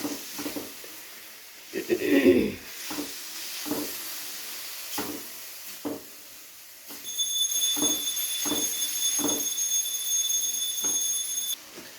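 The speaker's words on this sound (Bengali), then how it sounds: "এবারে রসুনটাকে খুব ভালো করে পেঁয়াজের সাথে একটু নেড়ে চেড়ে ভেজে নেব" Garlic paste being stirred with onions in a frying pan, heard as steady rhythmic scraping taps at close range; a high electronic beeping tone joins partway through and continues to the end.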